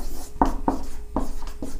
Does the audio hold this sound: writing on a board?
yes